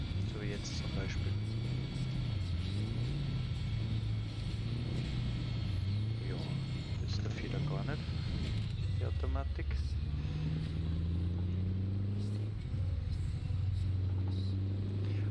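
Steady engine rumble of a truck driven with manual gears in Euro Truck Simulator 2, droning continuously with pitch shifts as gears change, under someone talking throughout.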